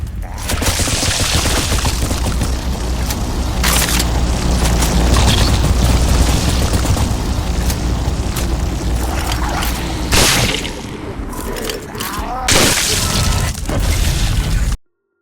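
Shotgun and hand grenade blasts in a mobile zombie shooter game, a dense, loud run of booming gunfire and explosions layered over continuous game music for the whole stretch, with brief dips between volleys.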